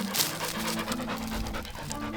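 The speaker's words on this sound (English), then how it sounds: "I can't take this dog anywhere" A dog pants in rapid, steady breaths close to the microphone for about two seconds, with faint background sound outdoors by a river.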